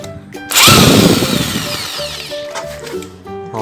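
A power tool drives out screws on an electric fan that has lost power, a loud close whirring burst that rises and then settles into a rattling spin before stopping.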